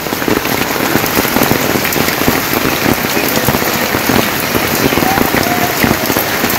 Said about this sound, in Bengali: কমে গেছে বৃষ্টি